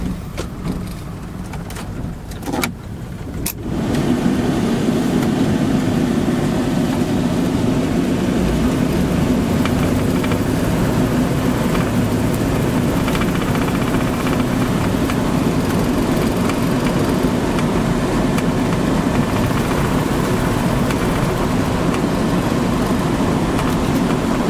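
A 1987 Dodge Ramcharger 4x4 SUV drives along with a steady, loud engine and road rumble that swells after a few seconds of quieter idling, holding constant to the end.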